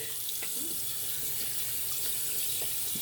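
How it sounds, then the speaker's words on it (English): Running tap water splashes steadily into a sink as soapy hands are rinsed under the stream, a continuous close hiss with small splashy variations throughout. "I'm gonna rinse my hands off because, as I said, this soap is very slick."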